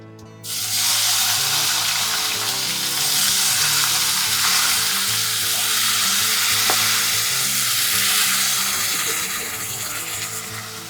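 Ajwain, turmeric and peanuts frying in a pan, a loud steady sizzle with crackling that starts abruptly and continues throughout, with a faint low background hum and no talking.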